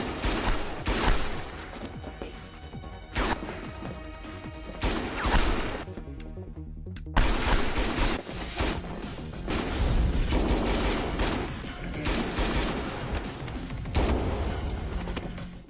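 Gunfire and crashes in a Korean action film shootout, dense, loud bursts of rapid shots and impacts over a busy soundtrack, broken by a brief near-silent pause.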